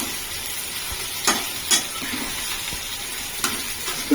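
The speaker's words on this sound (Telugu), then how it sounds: "ఇప్పుడు వేగుతుందండి" Brinjal pieces fry in a pan with a steady, close sizzle and a few soft stirring knocks scattered through it, with no voices.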